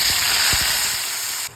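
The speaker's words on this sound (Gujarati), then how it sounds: "હવે એમાં નાખી દઈએ ડુંગળી ટમેટાની પેસ્ટ" Onion and tomato paste hits hot oil already crackling with cumin, cinnamon and cloves for a Kathiyawadi kaju curry, giving a loud, steady broadband sizzle that fades slightly before cutting off.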